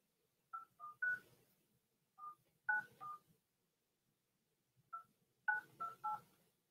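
Telephone keypad dialing: quiet touch-tone beeps in three short clusters separated by pauses, each cluster a quick run of two to four tones, with no voices.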